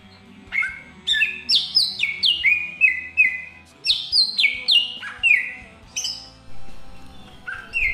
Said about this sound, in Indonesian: Nah, kebetulan ini saya ada burung cucak hijau